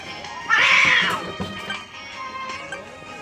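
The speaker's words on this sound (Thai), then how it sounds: "แมวกัดกันครับผมแมวบ้านผมเองนะ" House cats fight, with one loud, strained yowl up close followed by fainter meows, scuffling and hisses that trail off.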